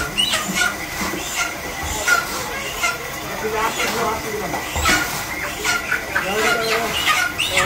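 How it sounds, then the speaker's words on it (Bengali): Chickens clucking at a poultry shop in a busy village market, intermittent and fairly close, with people talking over them throughout. "এই জায়গা মুরগির দোকান আছে,"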